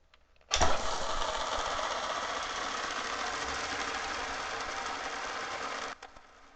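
A skateboard wheel on Rush Beck 7 bearings and Royal trucks spins freely, making a steady, loud whirring hiss that starts abruptly, holds evenly for about five seconds, then cuts off with a few faint clicks.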